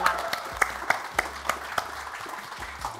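A studio audience at a talk show claps in a steady patter of hands, moderately loud and close, with some faint voices underneath.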